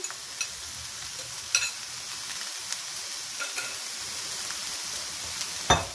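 Egg noodles stir-fried and tossed in a hot pan for Schezwan chicken noodles, a steady close sizzle broken by a few sharp scrapes and clatters of the spatula, the loudest one at the very end.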